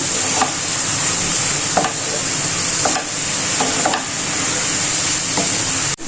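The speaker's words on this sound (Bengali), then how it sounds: "এই পেঁয়াজটাকেও আমি লাল না হওয়া পর্যন্ত ভেজে নেব" Onions and pointed gourd fry in a pan with a steady, dense sizzle throughout, broken by several soft scraping stirs of a spatula at irregular intervals.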